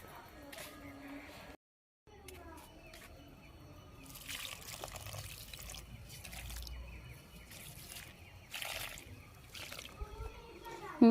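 Potted plants are watered in a new home, with soft water trickling and splashing intermittently into the soil, close and faint, while someone talks throughout.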